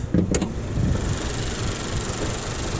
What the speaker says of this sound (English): Here's their tried and true 2-liter engine.